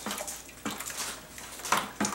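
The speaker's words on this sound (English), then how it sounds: "you just want hot tap water to mix in the bentonite" Hot tap water runs steadily from a faucet into a bucket for home winemaking, a continuous close splashing rush with a few brief surges.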